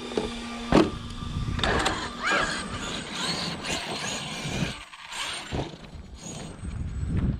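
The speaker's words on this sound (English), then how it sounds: "A lot of torque in this motor, so when you hit the trigger, it really pulls up the front end." Electric motor of an Arrma Kraton 8s RC car on a concrete surface, a loud close whine that rises and falls with the throttle, with mechanical whirring and gear rattle throughout.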